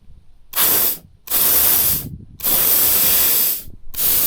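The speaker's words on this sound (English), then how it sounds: "I'm now doing a test to see how long I can spray nitrous with a 14 horsepower jet in there" Nitrous oxide sprays through a 14 horsepower jet on a Foreman engine in four loud, close hissing bursts, each about a second long, with brief silent gaps between them.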